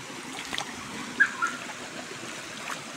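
A river flows with a soft steady trickle while someone wades through the water, making a few faint splashes close by and no talk.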